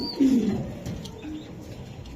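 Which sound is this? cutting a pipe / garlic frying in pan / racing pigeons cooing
racing pigeons cooing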